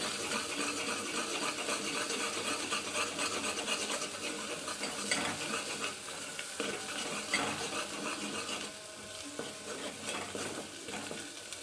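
Ginger garlic paste frying and being stirred in hot oil for ulava charu, a steady close sizzle with scraping stir strokes throughout, no voices.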